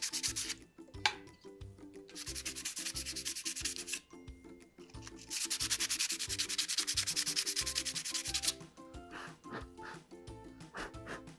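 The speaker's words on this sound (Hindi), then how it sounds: "इन कॉपर प्लेट्स को सैंड पेपर से थोड़ा सा रब कर लेना है, घिस लेना है कुछ ऐसे।" Sandpaper rubs back and forth over copper plates in quick, rhythmic scraping strokes, close and fairly quiet, with short pauses between bursts.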